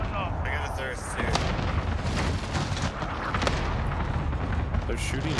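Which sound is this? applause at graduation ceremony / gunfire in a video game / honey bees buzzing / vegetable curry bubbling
gunfire in a video game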